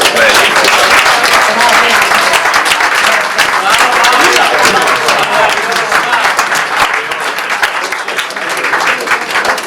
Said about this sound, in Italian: vorrei che tutti quanti voi faceste un bel applauso perché se lo merita.